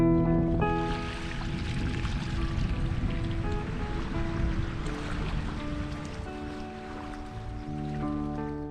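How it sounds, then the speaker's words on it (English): Gentle waves break on a beach at Sandaig Bay in Scotland on a calm day, a steady soft wash of surf that swells and eases throughout, with sustained tonal sounds layered over it. "just the sound of waves gently breaking on the beach and birdsong in the trees"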